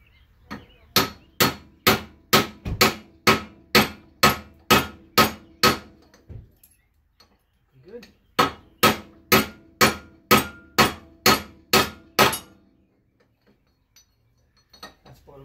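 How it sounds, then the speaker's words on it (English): Shim and collar being driven onto a front-wheel-drive manual transmission shaft with a length of tubing, as steady rapid pounding strikes in two long runs of about a dozen metallic blows each, split by a short pause. "we just use a longer piece of tubing to pound that on"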